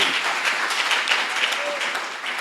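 Church congregation applauding God during a service, a dense continuous wash of clapping from a crowd with a faint voice underneath.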